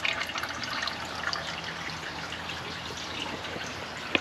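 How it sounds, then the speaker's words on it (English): Water runs through a garden watering system in a greenhouse, a faint, steady trickle and drip that continues evenly with no voices. "Well, the water's running well."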